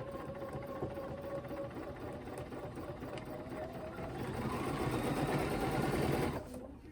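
A sewing machine runs steadily, stitching a quilt block with a ruler guiding the path, its hum rising slightly in speed near the end before stopping abruptly.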